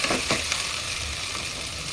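Ginger, garlic, tomato and onion paste sizzles in a pan and is stirred while a duck bhuna is cooked, giving a close, steady frying hiss with a few scraping stir strokes.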